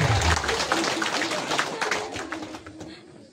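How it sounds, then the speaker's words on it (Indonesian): Audience at a family gathering clapping in a dense, fairly close burst that gradually thins and fades, with a voice briefly audible over the applause. "Tepuk tangan dulu"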